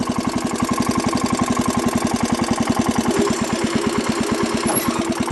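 A Wheel Horse lawn tractor engine runs in reverse with a transmission fault, a loud, steady, rapid thumping chug that stays close and even throughout, with no talk.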